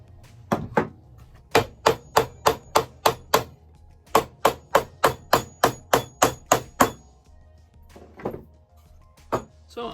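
Hammer strikes drive old rusty nails into a wooden planter box of burned, Shou Sugi Ban–style timber, landing in quick, steady runs of sharp, close, loud blows with short pauses between the bursts.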